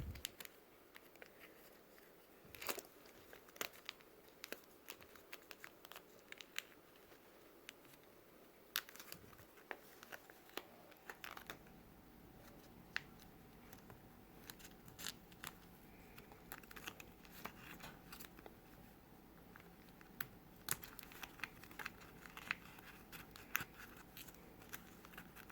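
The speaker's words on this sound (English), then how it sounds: "take a pair of scissors, sharp scissors, and cut off the excess contact paper" Sharp scissors trimming excess contact paper around a botanical sun catcher, faint scattered snips and crinkling paper rustles, quiet and close, with no talk.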